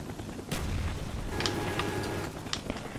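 Pistol fire in a Call of Duty Black Ops multiplayer match, a few sharp shots popping over a busy game soundscape with an initial bang and several quicker reports.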